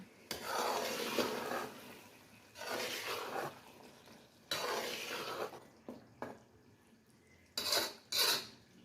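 Matar keema being stirred in a cooking pot after chopped fresh coriander and whole green chillies go in, with repeated scraping and clinking of a spoon against the pot in bursts, close and fairly loud, with gaps of near quiet between.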